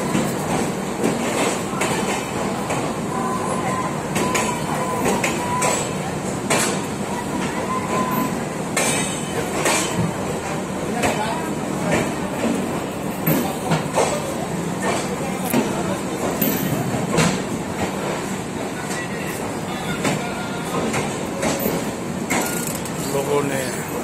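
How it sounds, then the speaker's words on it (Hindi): A local train rumbles and clatters steadily along the rails entering Howrah station, with sharp clicks and faint squeals over a continuous low roar, and voices talking beneath it. "ये देखिए एक local train Howrah station enter करते हुए"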